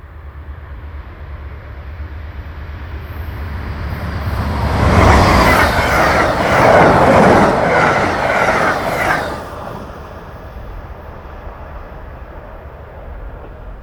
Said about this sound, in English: 43 heads straight for the camera under the new bridge with